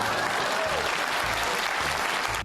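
An audience breaks into steady applause, dense continuous clapping that holds at full level for about two seconds before cutting off.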